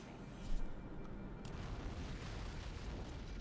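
A loud explosion from an antimatter charge set off aboard a ship in Halo: Combat Evolved, a heavy boom near the start that settles into a sustained low rumble of fire and debris, with no talk over it.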